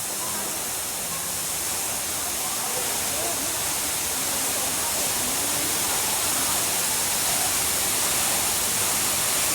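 Pha Luang waterfall in Ubon Ratchathani, Thailand, roars steadily and loudly as water falls from the cliff above, a constant rushing wash with no break.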